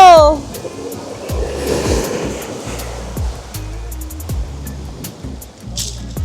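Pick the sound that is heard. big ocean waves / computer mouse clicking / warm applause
big ocean waves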